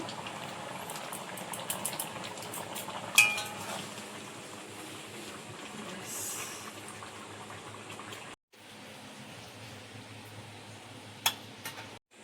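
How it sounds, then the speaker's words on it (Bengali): Fish curry gravy boils in a pot, a steady soft bubbling with small pops and gurgles that carries on alone, pausing briefly before resuming. "ঝোলটা ফুটছে"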